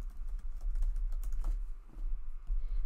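Quick, soft clicks of keys being typed on a computer keyboard in a short burst of irregular taps, close and quiet, no talking.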